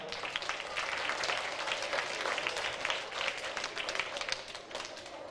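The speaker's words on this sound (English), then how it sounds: "Give her a round of applause." Steady applause from a school audience at a district music-in-our-schools event, dense and continuous for the whole stretch, moderately loud and close, easing slightly near the end.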